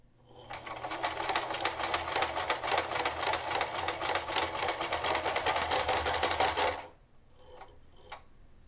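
A sewing machine runs in a fast, even rapid-fire stitch along the outside edge of a handmade juggling ball, close and steady for several seconds before stopping, leaving a few faint ticks.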